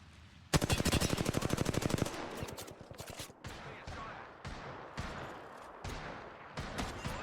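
Rapid automatic R3 rifle fire in the video game Apex Legends: a loud sustained burst of dense, evenly spaced shots, then shorter bursts and scattered single shots with other gunfire and game effects, no talking.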